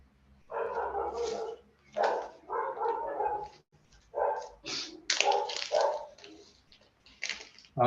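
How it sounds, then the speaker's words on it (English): Dogs bark in repeated, close bursts through a participant's open microphone during an online research symposium, with short pauses between the volleys. "We can hear your dogs barking."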